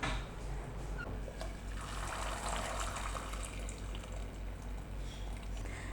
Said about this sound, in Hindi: इसके ऊपर ही हम ठंडा पानी डाल लेते हैं।